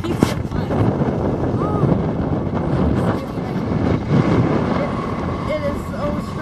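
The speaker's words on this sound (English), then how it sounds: "It's really windy, like it's pushing our boat all over the place." Strong wind gusting over a sailboat on the St. Lawrence Seaway, a steady rushing roar with microphone buffeting, loud and close, with brief faint tonal whistles and no clear talking.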